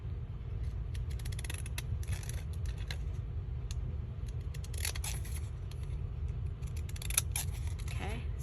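Decorative scissors snip through craft paper in repeated bursts of crisp cuts, close and fairly clear over a constant low background hum, with brief pauses between cutting runs.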